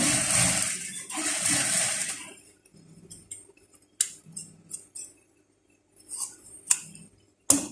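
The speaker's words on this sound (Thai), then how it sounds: "เสร็จแล้วเย็บลงมาเนาะ เย็บตรงๆ เลยเนาะ" Sewing machine stitching straight along a trouser waistband, heard as a steady close whirring run over the first two seconds, followed by short bursts of stitching separated by clicks, pauses and light handling taps.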